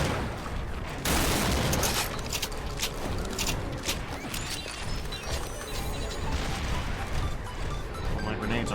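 Grenades go off in a violent video game battle, a heavy crash after the first second followed by a chaotic run of bangs, gunfire and clattering impacts, loud and dense with a voice mixed in.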